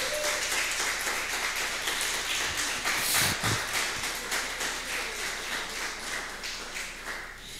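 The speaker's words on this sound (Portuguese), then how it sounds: "Você pode aplaudir a palavra do Senhor." A church congregation applauds in steady, dense clapping that sounds broad and full, with a few heavier thumps near the middle before it gradually eases off.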